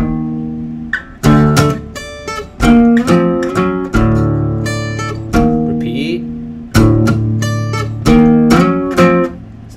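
Distorted electric guitar riff built on open power chords: loud, close bursts of chugging chords and short note runs in a stop-start rhythm, with no talking over it.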